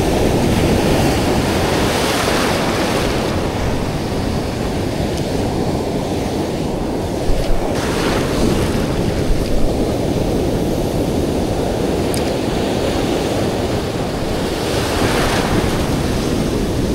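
Strong ocean surf and wind roar steadily at a fishing spot, a dense wash of breaking waves and buffeting wind noise on the microphone, loud and unbroken throughout, with no voices.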